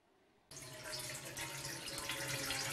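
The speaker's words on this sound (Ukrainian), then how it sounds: "З першого погляду з крана тече звичайна чиста вода." Ordinary clear-looking water gushes steadily from a household tap after a short quiet lead-in, a loud continuous splashing rush that stays even to the end.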